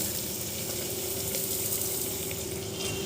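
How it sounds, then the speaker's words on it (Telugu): Toor dal frying in a pan gives a steady, dense sizzle throughout, with a faint constant hum underneath. The sound is close and even, with no voices. "కందిపప్పు కూడా చక్కగా వేగాలి గోల్డ్ కలర్ రావాలి"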